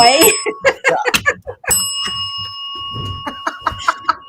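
Bright metallic bell rings out repeatedly in quick dings with sustained ringing tones, close and loud, mixed with people talking and laughing.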